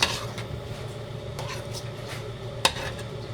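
A creamy maja mixture thickened with cornstarch is stirred in a pot, making soft continuous scraping with a few light clinks of the utensil against the metal and one sharper knock near the end.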